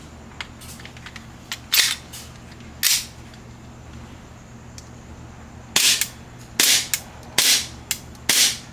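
KJWorks CZ Shadow 2 CO2 airsoft pistol firing, a string of sharp, snappy shots, a few spaced singly early on and then a quicker cluster of about five near the end, close and loud with no talking.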